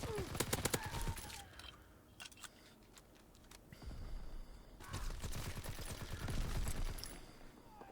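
Gunfire from the World War II shooter Call of Duty: WW2, with rapid bursts of automatic shots and single cracks in dense clusters near the start and again later, under a steady bed of game noise.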